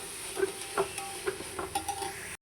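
Ginger and garlic sautéing in a pan for a Bakrid biryani: several soft stirring scrapes over a low, steady sizzle, close and quiet, with no talking.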